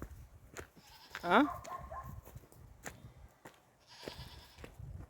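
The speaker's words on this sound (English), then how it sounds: "Goat is crying out for help." A goat bleats once in a loud, wavering call during a nature walk near a Jamaican river, heard close amid outdoor ambience, footsteps and a brief spoken exclamation.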